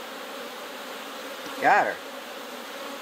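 Honeybees buzz at an open hive during a colony split, a steady hum with a louder, closer burst of wingbeats near the middle as one flies past; a voice speaks briefly.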